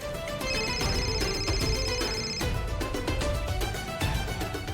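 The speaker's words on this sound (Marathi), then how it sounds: "बंड्याचा फोन." A mobile phone ringtone plays in a Marathi TV serial, a busy repeating electronic melody filling the whole stretch with no talk over it.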